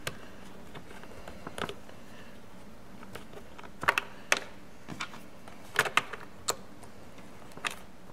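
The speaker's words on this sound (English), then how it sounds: "I like to do this with just a regular hand screwdriver, just so I don't strip out the plastic." A hand screwdriver turns screws into a plastic battery cover, giving sparse, irregular small clicks and ticks close by over a quiet background.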